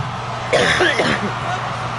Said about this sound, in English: I had to cough, pardon me.